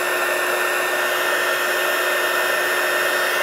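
A Faller mini hot air blower runs with a steady, even electric whir and airy hiss, loud and close, with no pauses or talking.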